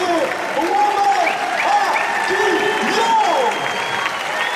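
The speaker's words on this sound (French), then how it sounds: "un tonnerre d'applaudissements, s'il vous plaît, pour notre Libertadores français, Mohamed" Dense, steady applause from a large crowd in the Arles arena at an international recortadores contest, filling the space continuously with a loud wash of clapping, with a few whistles and cheers above it.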